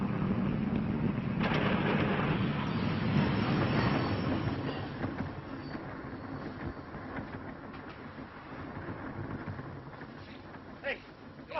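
A moving freight train rumbles with a dense, continuous roar and rhythmic clickety-clack of wheels over rail joints, loud and close at first, then easing slightly, with a brief squeal near the end.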